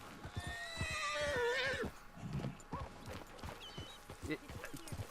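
A horse in Red Dead Online whinnies loudly in a long descending call, then hooves clop in a quick rhythm while someone talks over them.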